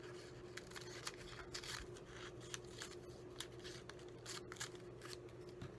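Scissors cutting paper for a picnic-napkin paper craft, a quiet series of short snips and rustles close by, with no talking.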